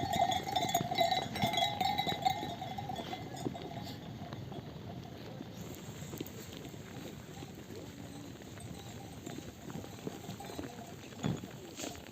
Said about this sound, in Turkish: da koyunlarımızı yemledik. Şu an yemeğini yiyorlar.